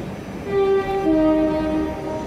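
A South Western Railway Class 458 electric train at a station, its steady tonal horn-like notes sounding close and loud for about two seconds over a rumbling background.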